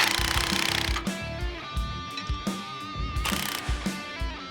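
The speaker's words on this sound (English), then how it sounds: "With everything loosely attached, we can start tightening all the castle nuts." A ratchet tightens castle nuts on the steering linkage of a square-body Chevy truck, giving rapid clicking bursts in short repeated strokes, close and sharp, with no talk.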